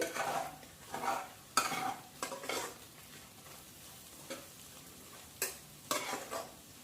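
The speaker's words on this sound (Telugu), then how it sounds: "ఇప్పుడు ఈ ఒకసారి కలుపుదాం అన్నీ కలిపి" Gongura chicken fried rice ingredients stirred in a pan, with a few distinct scraping strokes of the spoon over a quiet sizzle, close by and with no talking.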